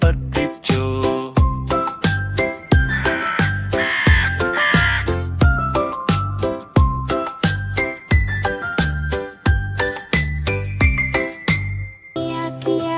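A cartoon crow caws repeatedly in a Malayalam children's nursery rhyme. The calls sit inside loud, rhythmic backing music with chiming tones, and no voices are heard.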